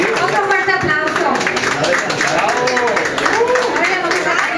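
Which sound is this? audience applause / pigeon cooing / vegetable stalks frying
audience applause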